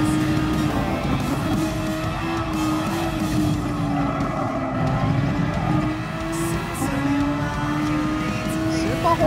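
Gran Turismo Sport race car engine, a Super Formula open-wheel car, drones steadily for several seconds, its pitch rising and dipping gently as the throttle changes, with a constant loud whine and no spoken words.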